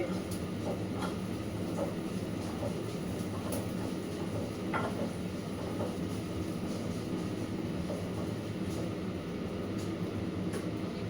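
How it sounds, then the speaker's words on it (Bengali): A kitchen chimney exhaust hood runs with a steady, loud broadband whoosh and low drone throughout, with faint clinks of cooking utensils now and then. "চিমনিটা চালালাম একটু আওয়াজ হবে"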